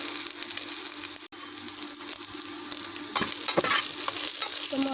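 Spice paste of ginger and cumin stirred and fried in a pan for an egg and onion bhuna, a steady close sizzle with scraping stir strokes, one brief dropout, and no talking.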